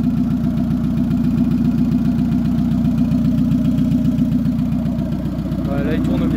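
A turbocharged Renault Espace engine, just past a cold start, runs steadily at a close, loud, rough idle with a dense rhythmic pulse and faint mechanical rattling.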